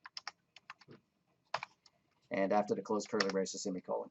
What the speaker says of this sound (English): I'm tired of typing